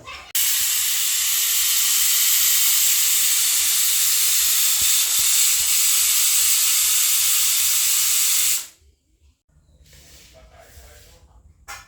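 A pressure cooker cooking lentils releases a loud, continuous steam hiss for about eight seconds, then cuts off abruptly, leaving quieter room sounds.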